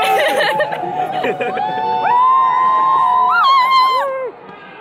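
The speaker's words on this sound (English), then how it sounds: "Why are we cheering?" A crowd at a midnight video game store launch cheers and whoops as they head inside, with high excited voices rising over general chatter and a close shout rising in pitch.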